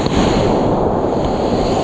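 Water waves lap and wash steadily around a boat out on a reef, a loud continuous rushing surge with wind buffeting, no voices.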